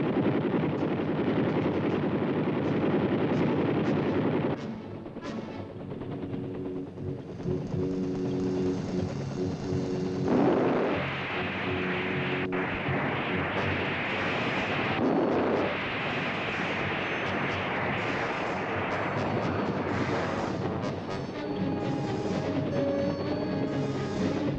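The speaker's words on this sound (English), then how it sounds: "the gunships move in and open up with machine gun and rocket fire" Distant rapid helicopter gunship machine gun fire and dull rocket explosions rumble together under a steady roar, sustained and muffled, from an assault on a Vietnam War stronghold heard from afar.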